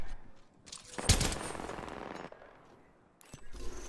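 Apex Legends gunfire: a dense, loud burst of rapid automatic shots lasting about a second, dying into quieter game ambience, with another sharp crack near the end.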